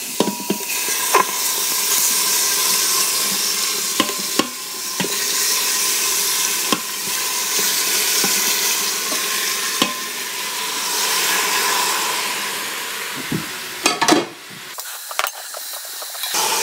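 Pieces of meat sizzle as they sauté and brown in a pan with melted fat, a steady crackling hiss with occasional sharp clicks and stirring knocks, close and fairly loud with no talk over it.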